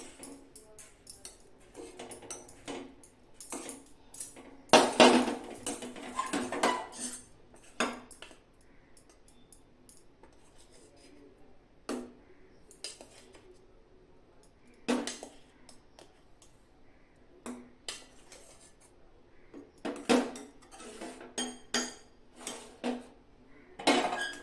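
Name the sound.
mixing rasgulla into thickened kheer in a pan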